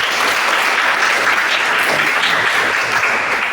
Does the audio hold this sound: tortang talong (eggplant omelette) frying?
no